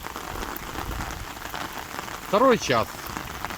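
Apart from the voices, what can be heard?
heavy rain pouring down after hail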